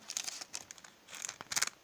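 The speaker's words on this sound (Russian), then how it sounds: "у меня этот пакетик порвался" A small plastic packet holding two erasers crinkles and tears in a few quick, close rustling bursts, with short pauses between them.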